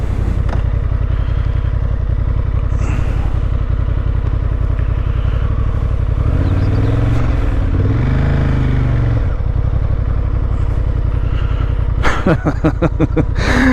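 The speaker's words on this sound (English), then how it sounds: "Bike actually sounds quite nice." A Honda Hornet 750 motorcycle engine drones steadily while riding, with wind rumble, a brief rising rev in the middle and a clattery burst near the end.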